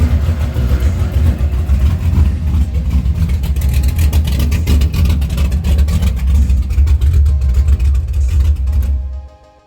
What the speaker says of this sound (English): I'm gonna post my reaction when I first got this truck running.